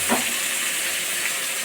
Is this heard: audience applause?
no